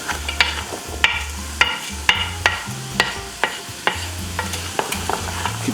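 A spoon stirs vegetables and squash in melted butter in a pot, giving regular scraping strokes close by over a soft sizzle, with no speech.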